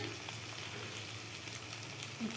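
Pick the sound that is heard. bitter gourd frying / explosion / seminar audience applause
bitter gourd frying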